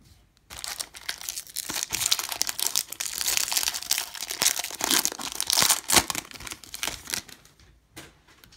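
Foil packs of baseball cards are torn and crinkled open in a jumbo box break, a dense, continuous run of close, crackling rips and rustles that lasts several seconds, with no talking.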